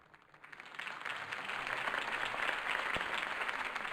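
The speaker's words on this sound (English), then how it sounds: "If only Mr. Wayne, my campaign's largest backer, could have heard that applause" Applause from a crowd in a Batman mobile video game starts softly, then swells into a steady, fairly faint burst of clapping that goes on to the end.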